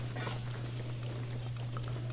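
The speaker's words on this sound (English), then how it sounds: "Oh no, it's raining." Steady rain falling in Zelda: Breath of the Wild, a soft continuous patter with a constant low hum underneath, no talking.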